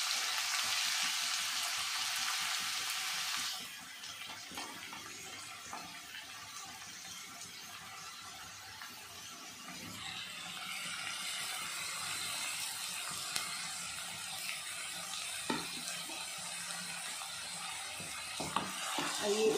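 Chopped onion drops into hot oil in a pan and fries with a loud, steady sizzle. The hiss dips briefly after the onion goes in, then swells again with occasional stirring clatter, and no talk is heard.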